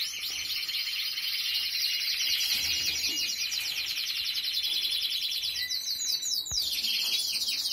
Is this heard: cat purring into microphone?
no